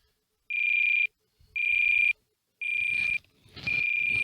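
An RC plane's ESC alarm on an E-flite UMX Turbo Timber beeps in four long, loud, steady electronic tones separated by short gaps, with faint handling noise beneath the later tones.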